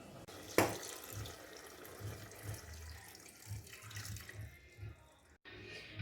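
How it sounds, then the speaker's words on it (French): Water splashes and trickles quietly into a pot of cooking beef, a soft, uneven pour after one sharp clatter near the start. "On ajoute de l'eau facultativement."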